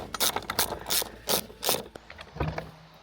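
A hand ratchet wrench clicks through a series of strokes, loud and close, with rhythmic bursts of rapid pawl clatter, then a few lighter clicks and a short low hum at the end.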